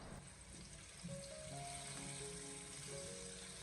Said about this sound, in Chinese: 我们再经过持续的慢煎